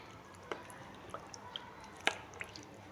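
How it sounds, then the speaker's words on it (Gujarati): Cream in melting ice water, stirred slowly by hand while making ghee, gives faint, sporadic wet squishes, drips and soft clicks close by in an otherwise quiet room. "એને ધીમે ધીમે હલાવવાથી આપણે બધું પાણી છૂટું પડતું જાય છે।"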